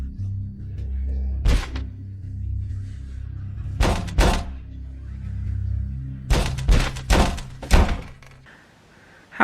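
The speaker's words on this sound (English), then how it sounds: "she hears some knocking at her door" Knocking on a door in the werewolf horror film Late Phases, heard as separate clusters of sharp, fairly loud raps over a low background hum.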